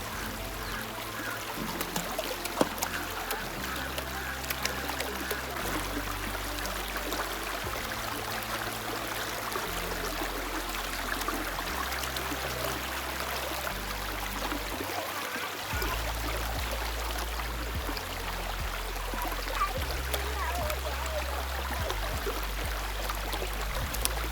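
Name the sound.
flowing waterfall stream at Sonmuda, Amarkantak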